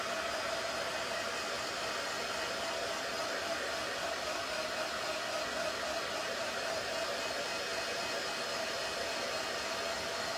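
A dryer blowing air over a freshly made craft piece, a steady loud whooshing whir that runs unbroken and close throughout.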